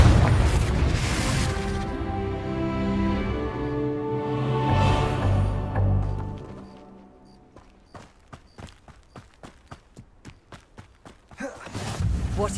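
A Confringo fire spell bursting in the Hogwarts Legacy game, with booming blasts early on, then a quieter stretch of rhythmic footsteps.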